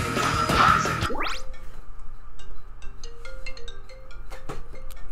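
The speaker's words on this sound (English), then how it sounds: "Bro, I keep getting all these damn phone calls." A phone rings with an incoming call: a loud electronic ringtone sweeps upward and then stops abruptly. Faint scattered tones and clicks follow over a low background hum.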